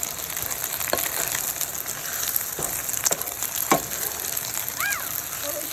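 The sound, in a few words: noodles and egg frying in pan for beef chow fun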